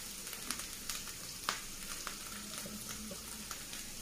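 Spices frying in a pan for a fish and taro curry, heard as a soft, even sizzle with light periodic scrapes and taps, fairly quiet, with no one talking.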